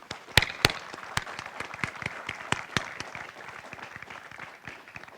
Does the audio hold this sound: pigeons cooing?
no